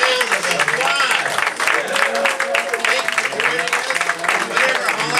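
An audience applauds the cast of a fall 2019 radio show, with steady clapping and crowd noise and voices talking over it.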